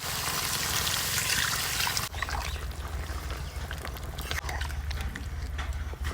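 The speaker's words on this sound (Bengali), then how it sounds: "এবার দেব মশলা ধোয়া জল" Spice-washing water poured into a chicken and taro root curry, a loud gushing splash for about two seconds, then a bubbling, trickling simmer in the pot.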